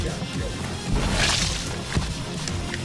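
Crunchy smashing impacts from the brawler video game Mother Russia Bleeds, a few heavy blows and a crash over a busy game mix, no voices.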